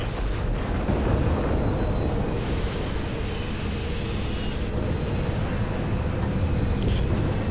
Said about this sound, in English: Bombers beginning their run!